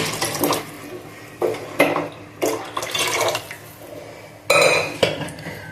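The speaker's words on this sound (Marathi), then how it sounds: "आता आपण थोडं पाणी घालूया." Water is poured into a pot of mutton curry in several short splashing bursts, with clinks and scrapes of metal utensils against the pot between pours.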